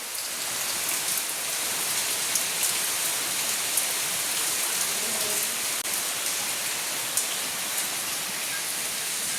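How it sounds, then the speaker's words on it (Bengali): Steady rain pours down continuously, a dense even hiss with occasional louder drips, no voices. "দেখো এখনও বৃষ্টি হচ্ছে"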